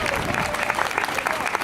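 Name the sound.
audience applause for school staff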